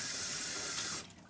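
Tap water runs steadily into a kitchen sink for hand washing, a loud close hiss that cuts off near the end.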